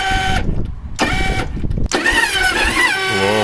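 A motorcycle's starter cranks in a few grinding bursts, then the engine catches and fires up. It settles into a loud, close, uneven idle that warbles slightly in pitch.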